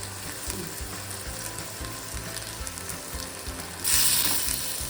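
Chopped tomatoes fry in a pan for tomato rasam, a steady close sizzle with soft stirring that swells to a louder, brighter hiss near the end.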